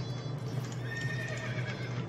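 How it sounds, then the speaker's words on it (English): A horse whinnies in a drawn-out, wavering cry in the game Fallen Empires, over a steady, noisy background with a low constant hum. "Does it make that sound when they spawn a horse as well"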